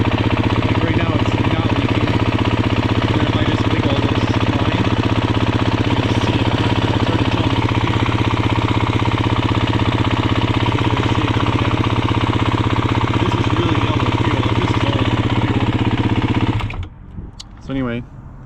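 A Beta 350 RRS EFI four-stroke motorcycle engine with 1,674 miles runs at a loud, steady, close idle with a rapid rhythmic chugging that cuts off abruptly near the end, leaving brief faint clatter.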